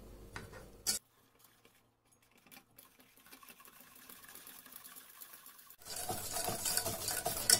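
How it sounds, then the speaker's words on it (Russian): Batter being stirred with a little milk until smooth, heard as soft, close scraping and tapping of a utensil in a bowl, mostly quiet with a louder stretch of stirring at the end. "Перемешиваю, чтобы масса стала однородная."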